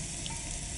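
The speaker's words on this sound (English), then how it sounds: "Fry mushroom and meat." Mushroom and meat tempura frying in oil heated to 118 degrees Celsius, a dense, even sizzle that stays loud and constant through the brief moment.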